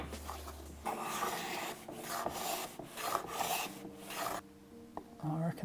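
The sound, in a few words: shaving wood to fit drawer dovetails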